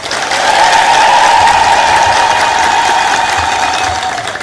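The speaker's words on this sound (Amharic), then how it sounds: "እስቲ ማትወዷት አጨብጭቡ።" Congregation clapping in a church, a loud, sustained wave of applause that swells early, stays steady and tapers slightly at the end.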